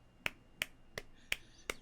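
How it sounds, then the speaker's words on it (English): A single person makes a rapid golf-clap attempt that comes out as five sharp, evenly spaced whacking snaps, close and dry over a quiet background. "Let me do my golf clap."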